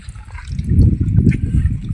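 Water splashes and pours steadily and up close as a farmer drinks in a village field, the flow swelling after a quieter start and continuing to the end.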